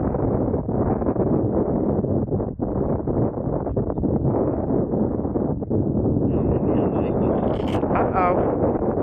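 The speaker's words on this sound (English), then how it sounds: "this little bit of wind gusts that we keep getting" Strong wind gusts roar steadily across the microphone at an outdoor airfield where a 1.7 m Avios King twin-engine model plane is flown in high winds, with a faint whine rising near the end.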